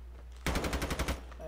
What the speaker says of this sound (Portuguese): Fazer um teste aqui com a arma.